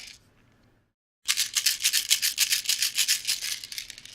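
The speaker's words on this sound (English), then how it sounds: "That is the sound of actual Latuda pills in a bottle." Latuda pills shaken inside a pill bottle, a fast, continuous bright rattle lasting about three seconds after a faint rustle and a brief silence, close and fairly quiet.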